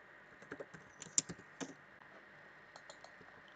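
A computer keyboard is tapped during a Roblox gaming session: a quiet, close cluster of irregular key clicks, bunched in the first half and then sparser taps.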